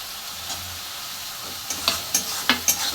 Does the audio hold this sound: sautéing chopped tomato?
yes